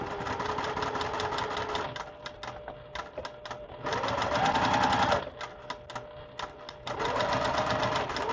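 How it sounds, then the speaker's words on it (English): A sewing machine stitches quilting fabric in bursts, a rapid mechanical rattling whir with a faint motor hum, running in several short spurts separated by brief pauses, close and clear. "we'll sew right from the end to our first dot, our only dot"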